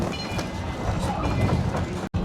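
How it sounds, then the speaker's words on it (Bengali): Rumbling interior noise of a B train in Pennsylvania as it starts moving, a steady low roar of wheels and carriage with a brief cut near the end, no speech. "ট্রেন চলতে শুরু করেছে"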